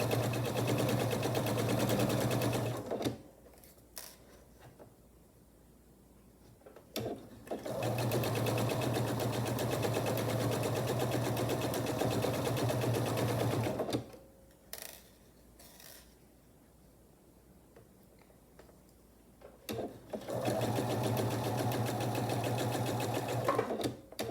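A sewing machine stitches a quarter-inch quilt seam, running in three long steady humming bursts separated by quiet pauses, close and clear.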